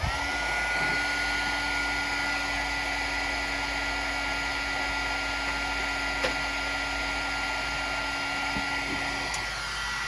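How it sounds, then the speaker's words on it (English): A heat gun used for card-making blows hot air in a steady, close, loud whoosh with a constant motor whine, running unbroken throughout. "So now I'm going to warm up the heat gun."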